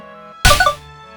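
A short, bright chime-like jingle for an affinity increase in a 2D game rises suddenly over a faint hum, a quick shimmering flourish lasting under half a second.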